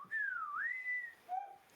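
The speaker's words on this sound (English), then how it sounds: "He'll whistle every now and then" A person whistles a short, soft melodic phrase, one sliding tone dipping and rising, then a brief lower note, fairly faint and alone.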